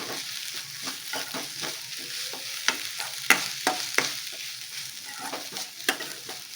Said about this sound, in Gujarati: પહેલાં લીલું લસણ અને લીલા ડુંગળીનો સફેદ ભાગ હોય એ કૂક કરી લેવાનો તમારે